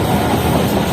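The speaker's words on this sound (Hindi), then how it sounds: "हमारी ट्रेन चल रही है मीरपुर खास शहर में" The Shah Latif Express train runs through Mirpur Khas, a loud, steady rumble of wheels and carriages with a continuous rolling roar from on board.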